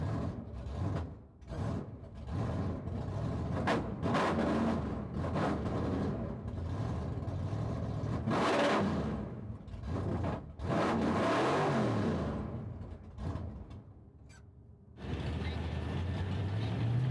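Loud, gritty car engine revving hard again and again with a rough, uneven idle between bursts, a misfire from a suspected broken pushrod adjuster, heard close up with a sudden steady roar near the end.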